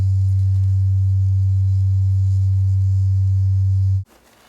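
Steady low test tone played through a Ford Mustang front door speaker, a loud continuous hum holding for about four seconds before cutting off abruptly into faint room noise.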